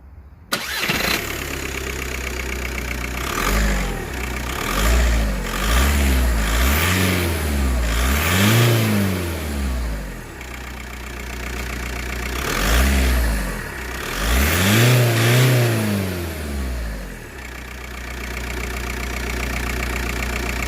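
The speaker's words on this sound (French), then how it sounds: "je vais démarrer, on va voir la différence de bruit" A Volkswagen Golf 4 1.9 TDI diesel engine cranks and starts, then settles into a low idle broken by several distinct revs that rise and fall, close and loud, with no talking.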